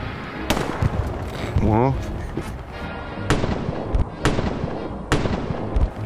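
Gunfire in the World War II shooter Hell Let Loose: several loud, sharp shots come at uneven intervals over a busy battlefield bed while a player speaks briefly.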